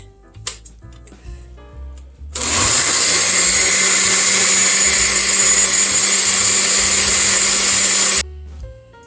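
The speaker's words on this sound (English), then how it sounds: "Now we've got some of the juices into the blender, and I'm going to blend it, puree it" A loud blender purees pot roast juices into sauce, whirring continuously for about six seconds, starting abruptly and stopping just as suddenly, with quiet clatter before it.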